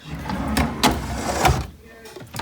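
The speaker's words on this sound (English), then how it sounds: "So that's my skincare drawer." A skincare drawer being shut gives a few sharp sliding knocks and a final bump, fairly close and loud, amid a quiet room.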